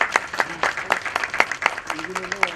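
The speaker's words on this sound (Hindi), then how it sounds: "हम तालियों से उनका स्वागत करेंगे।" Audience applause welcoming the guest of honour at a Sardar Vallabhbhai Patel Jayanti celebration, a scattered run of separate claps at a moderate level under a voice speaking over it.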